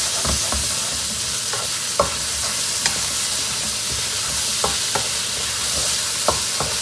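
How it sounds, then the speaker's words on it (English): Chicken hearts stir-fried over high heat hiss in a constant bright sizzle, punctuated by sharp clicks and scrapes of utensils against the pan, close up and without speech. "Immediately stir"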